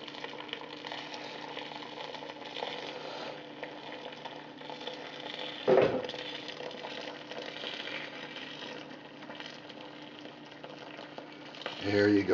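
Hot homebrew wort pours through a hop-straining screen, making a quiet, continuous watery rush and trickle with a few louder splashy surges, one midway and another at the end.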